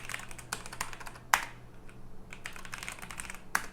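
Quick clattering keystrokes on a computer keyboard during a programming session, irregular bursts of close, crisp clicks with a couple of sharper, louder key hits, no voices.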